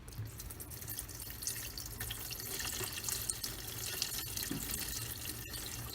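Windshield washer fluid being poured into the reservoir of a 2018 Ford F-150, a faint, steady trickle with small splashes and drips throughout, quiet and close, with no talking.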